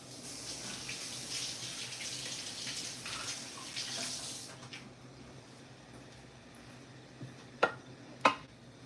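Ground beef hits a hot pan with about two ounces of oil, giving a soft, steady sizzling hiss that fades after a few seconds, followed by two sharp utensil clacks.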